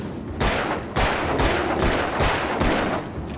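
Shotgun blasts in the video game Alan Wake, five heavy booming shots in a steady rhythm, each followed by a short decaying tail, loud and close with no talking.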